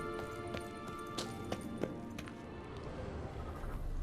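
Horse hooves clip-clop in Witcher 3: The Wild Hunt in a quick, even rhythm at moderate distance, steady throughout with faint background ambience.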